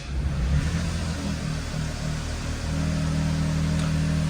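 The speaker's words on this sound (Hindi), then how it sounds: "मैं आपको गाड़ी स्टार्ट करके दिखाता हूँ" A Maruti Alto VXR petrol car engine cranks and catches near the microphone, then settles into a steady low idle hum with no talking.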